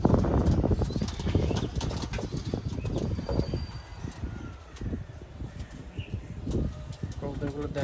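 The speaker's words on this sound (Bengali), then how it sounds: "কবুতরগুলো দেখেন" Imported-bloodline pigeons coo and shuffle nearby, with soft flutters and scratchy movement, under someone speaking close by throughout.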